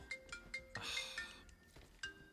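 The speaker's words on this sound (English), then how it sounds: "Getting another phone call." A phone ringtone chimes in a quick repeating pattern of short tones in Marvel's Avengers, faint and close, with a brief noisy swell partway through.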